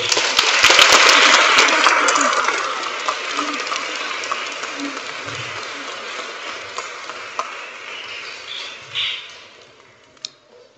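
Clapping from the audience at a junior school Year 6 leavers service, a broad patter of many hands that thins and tapers off, with scattered voices and small noises as it dies down.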